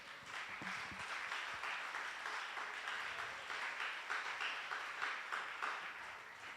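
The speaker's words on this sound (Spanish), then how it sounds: "Denle un aplauso al Señor." A church congregation breaks into sustained applause during a sermon, a broad, even wash of many hands clapping, moderately distant and fairly quiet.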